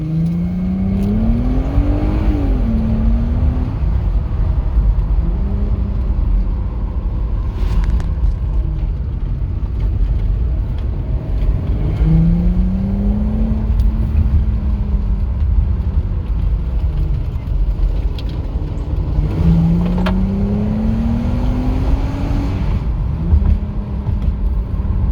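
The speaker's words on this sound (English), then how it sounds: "I'm gonna just mash the gas and let it do the shifting" A cheap auction-bought Audi sports car accelerates hard under full throttle, its automatic gearbox shifting itself; steady loud engine drone with rising pitch sweeps and drops at each upshift, continuous interior sound without talk.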